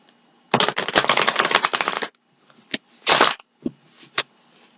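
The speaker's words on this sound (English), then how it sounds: "I find when I'm shuffling, it puts me in a meditative state." A long, dense riffle of tarot cards being shuffled close up, then a pause and a shorter second riffle, with a few sharp taps as the deck is squared.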